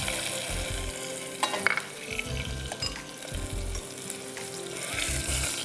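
Chicken breast fillet with garlic powder sizzles steadily in a frying pan, a dense hiss with occasional stirring scrapes and clatter, close and continuous.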